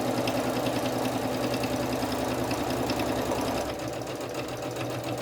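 Sewing machine stitching the seam of a fabric face mask, a steady fast mechanical whir with rapid needle ticking that runs continuously, close and fairly loud, and eases slightly near the end.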